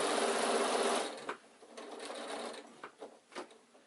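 Sewing machine stitches a seam on an insulated picnic bag, a brief fast whir that stops after a second, followed by softer shuffling and a few short bursts of handling noise.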